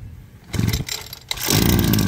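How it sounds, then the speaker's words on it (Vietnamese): A gasoline engine on a Japanese-made lime and rice sprayer is pull-started, catching after a short pull and settling into a loud, steady close-up idle. "Rồi, giật máy nổ luôn."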